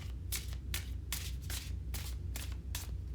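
Tarot cards are shuffled repeatedly in quick riffling bursts, about eight in a row, soft and close with a low background hum.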